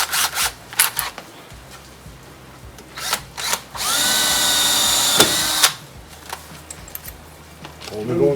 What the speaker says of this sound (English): As always, drill a pilot hole.